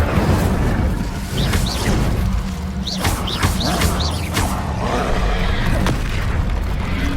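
Incendio fire spell cast repeatedly in Hogwarts Legacy combat, heard as loud booming bursts and whooshes layered among other spell impacts and thuds, continuous and dense throughout.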